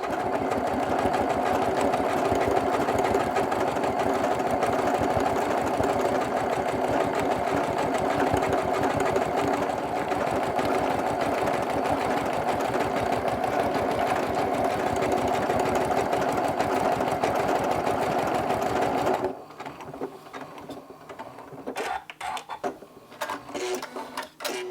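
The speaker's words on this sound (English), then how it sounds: "This is a decorative stitch D36, some little flowers going along here." A sewing machine runs a decorative stitch of little flowers across a quilted mug rug made from crumb fabric, a loud steady whirring buzz for about nineteen seconds, then stopping, followed by scattered clicks and handling noises.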